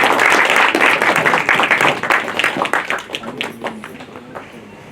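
Applause at a short film press meet: loud, dense clapping from a group that thins out into scattered claps and fades over a few seconds.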